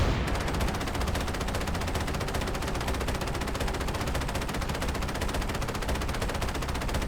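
Dense, continuous rapid-fire weapon bursts from Jackal enemies firing on the player during a Halo CE battle, loud and unbroken throughout with no talk.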